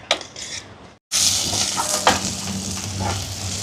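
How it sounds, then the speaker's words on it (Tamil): Shallots, curry leaves and green chillies frying in hot oil for a Chettinad chicken gravy, a steady close sizzle after a brief pause near the start, with occasional stirring scrapes and pan knocks. "இப்போ இந்த வெங்காயம் எல்லாம் வதங்கட்டுங்க."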